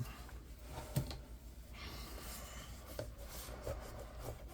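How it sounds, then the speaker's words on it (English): Glued paper pieces for a vintage snow scrapbook album are burnished by hand, giving a soft, steady dry rubbing with a few brief scuffing strokes, close and quiet. "Give that a good burnish on both of those"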